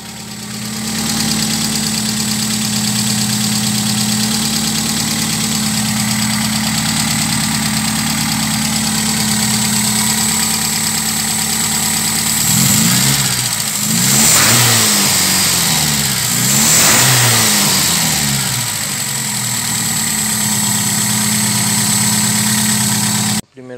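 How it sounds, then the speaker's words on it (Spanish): A warm VW AP car engine idles with a steady mid-pitched hum, then revs up a couple of times in short swells before settling back, loud and close throughout. "Ya está caliente ya el motor."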